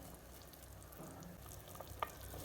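Mutton pulao being stirred in a pot with mint and coriander leaves, a soft steady sizzle and scraping of the spoon running through the whole stretch, with one brief sharper clink near the end.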